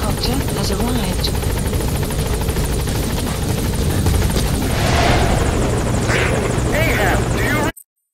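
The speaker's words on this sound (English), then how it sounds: "support helicopter has arrived." A support helicopter in a Metal Gear video game arrives with a loud, steady rotor thrum and engine buzz that fill the whole scene. Radio voices talk over it before it cuts off abruptly.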